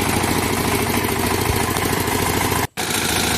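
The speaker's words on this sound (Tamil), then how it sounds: "இப்போ நம்ம பார்க்குற வண்டி 21 ஹெச்பி கவி அக்ரோ பவர் டில்லர் இன்ஜின்." A 21 HP Kavi Agro power tiller engine runs loud and close with a steady rough chugging, briefly cutting out for an instant near the end.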